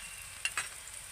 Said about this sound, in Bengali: এবার আমি এর মধ্যে দিয়ে দেব আদা রসুন বাটা।